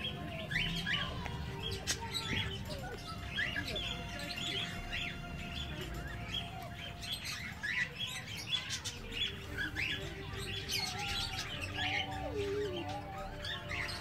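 Budgerigars and cockatiels chirp and squawk in a dense, continuous chorus, quiet and somewhat distant, with overlapping calls throughout.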